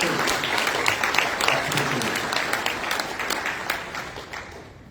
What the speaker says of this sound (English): we got to give these folks a round of applause